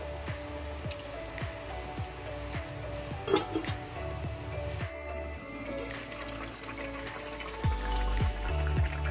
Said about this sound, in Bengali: এর মধ্যে বড়াগুলো দিয়ে বেশ ভালো করে 5 থেকে 7 মিনিট ফুটিয়ে নেব।